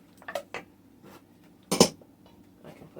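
Baking soda being stirred into ginger cake batter in a bowl, heard as a few soft clinks and scrapes of a utensil against the bowl, with one louder knock near the middle and no talk.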